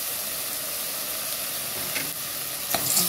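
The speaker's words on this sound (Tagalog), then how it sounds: "Haluin natin." Steady sizzling hiss from a pot of sopas as macaroni elbows are stirred in, continuous and close, with a few faint clinks of the spoon near the end.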